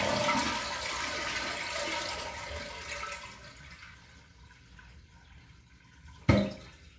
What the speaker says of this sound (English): you turn off the water supply and then give it a flush